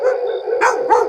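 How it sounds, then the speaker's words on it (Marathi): Dogs bark twice in quick succession, close and loud, sharp yelping barks over a steady tonal background, with no talk. "काऊन भुकायले हो एवढे?"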